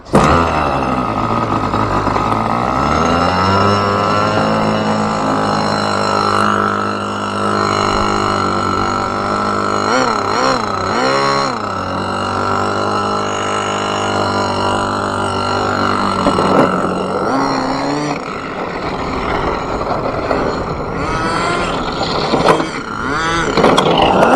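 A homemade snow boat's small engine runs close and loud with a steady droning buzz, rising and falling in pitch as it revs, with dirt in the engine.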